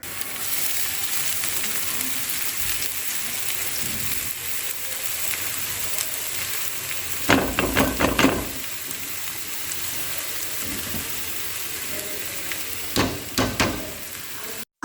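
Kalai greens fry over high heat in a pan with browned onions, giving a constant close sizzle broken by two bursts of brisk stirring and scraping.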